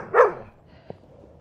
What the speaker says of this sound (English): Oh, another dog. Another dog.